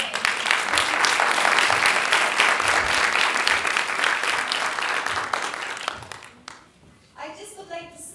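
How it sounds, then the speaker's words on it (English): An audience at a women in film panel discussion gives a big burst of applause that holds steady for about six seconds, then fades out as a voice begins speaking. "let's just give them a big applause"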